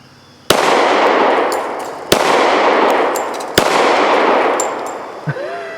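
Three loud, close handgun shots spaced a couple of seconds apart, each followed by a long ringing decay, with a faint metallic clink near the end.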